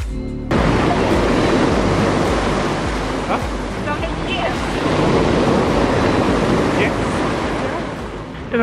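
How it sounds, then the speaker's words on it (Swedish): Waves break on a shore at Zakynthos, Greece, in a loud, continuous roar of surf mixed with heavy wind buffeting the microphone, with no clear voices. "Jävla vågor bara."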